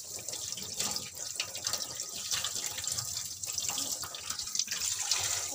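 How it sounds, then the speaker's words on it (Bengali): Fish is washed with salt under a running kitchen tap, a steady close hiss of flowing water with soft splashing and rubbing throughout. "লাস্টে একটু নুন দিয়ে ভালো করে চটকে ধুয়ে নেবো, যাতে মাছের একটা আস্তে গন্ধ না থাকে।"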